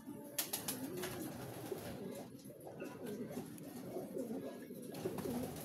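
Pigeons cooing steadily in a noisy outdoor setting, with scattered bird calls and some faint voices in the background.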